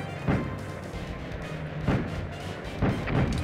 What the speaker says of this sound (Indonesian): Saling nembak kita.